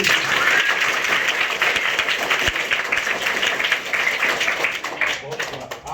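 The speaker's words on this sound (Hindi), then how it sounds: "ताली बजाओ एक बार" A crowd at a rationalist gathering in Surat breaks into loud, continuous clapping that fills the whole stretch before cutting off abruptly.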